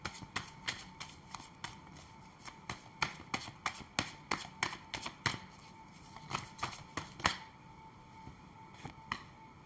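Tarot cards are shuffled and handled, giving a quick series of close, crisp riffles and snapping card flicks in uneven bursts throughout, with no talking.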